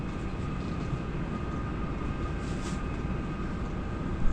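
Steady, loud roar of strong wind at a riverside campsite on the Tug Fork River, a low rumbling rush that holds constant throughout, with a brief gust swelling near the end.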